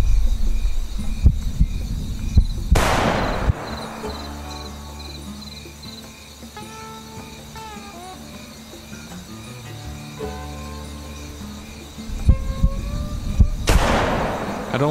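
Two loud, echoing rifle shots from the hunting video game Hunting Simulator 2, fired at an animal that is not a bison, about ten seconds apart, with soft ambient tones and chirps in between.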